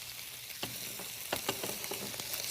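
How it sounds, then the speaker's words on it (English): Onions frying in about a teaspoon of oil, a steady close sizzle with a few sharper crackles and scrapes of stirring. "I'm going to add my onions. With a little bit of oil, teaspoon or so."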